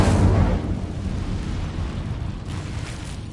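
An Incendio fire spell from Hogwarts Legacy bursts out as a loud, roaring blast at the start, then settles into a steady rumbling burn that holds up to the end, with no voices over it.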